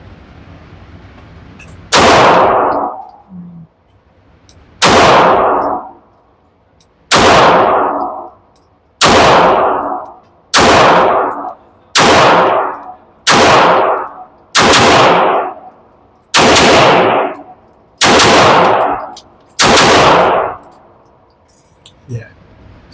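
A MAC9 DS Comp pistol fires about eleven evenly spaced single shots at steel targets, each loud crack followed by a ringing metallic clang, echoing out before the next.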